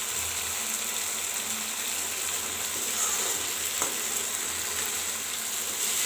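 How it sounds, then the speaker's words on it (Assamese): Long brinjal fries in a pan with a steady, dense sizzle that stays close and even throughout, broken only by a faint tap near the middle, with no talking. "আৰু এতিয়া মই আৰু 2 মিনিটমান এনেকুৱাকৈ ভাজিম।"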